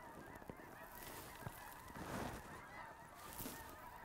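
A flock of snow geese calls in South Dakota, a chorus of faint, distant honks rising and falling over a quiet outdoor background.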